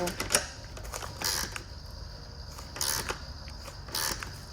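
Metal fittings on a new radiator for an Infiniti Q50 being twisted and tightened by hand, giving short creaking and clicking bursts in an irregular rhythm, close by and fairly quiet.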